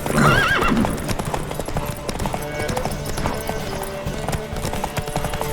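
A horse gallops with rapid clip-clop hoofbeats during a race in The Witcher 3, opening with a whinny and running on steadily under game music and a voice.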